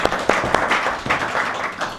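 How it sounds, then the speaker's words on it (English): Audience applause at a startup pitch session, brief scattered clapping from a modest crowd with distinct individual claps in an uneven rhythm. "Round of applause again."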